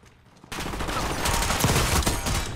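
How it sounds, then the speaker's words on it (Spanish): Warzone gunfire breaking out suddenly after a near-silent moment, a loud, dense burst of rapid shots and impacts rattling on for about two seconds, close and harsh, with no talking. "Me disparan de otro lado"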